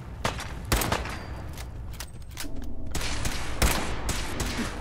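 Gunfire in Fallout 4: several sharp, loud shots and short bursts crack over a dense, noisy battle background, unevenly spaced across the stretch.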